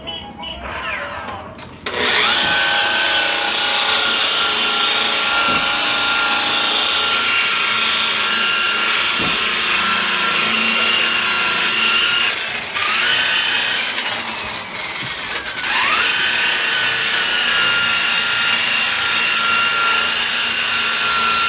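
A power sander works a body panel on a Factory Five 33 Hot Rod V2 kit car, starting after a short quiet moment and then running as a loud, steady high-pitched grinding whir with slight dips in pitch.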